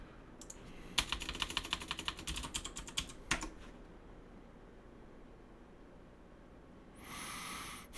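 Computer keyboard typing comes through in a fast run of close, crisp key clicks for a few seconds, then a couple of isolated taps, followed by quiet room tone and a brief hiss near the end.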